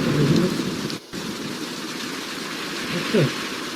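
AI-generated steady, dense rain pours down with a constant hiss, joined by a deep low rumble like distant thunder.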